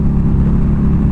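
Harley-Davidson V-Rod Muscle engine running rough as it falters with the check engine light on, a loud, low, throbbing close-up rumble with a steady pulsing beat and no voices over it.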